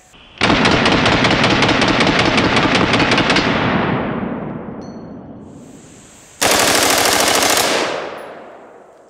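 A full-auto AR-15 fed from a drum magazine fires at body armor in two long, loud, unbroken bursts, each ending abruptly and trailing off in a fading echo, with a short gap between them.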